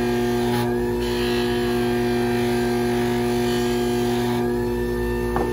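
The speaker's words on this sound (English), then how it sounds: "going to use this tabletop buffing wheel instead of the Dremel" A cheap, wobbly tabletop buffing wheel runs steadily at close range, a continuous motor hum with strong steady tones, used for polishing a metal Athearn RDC model train shell.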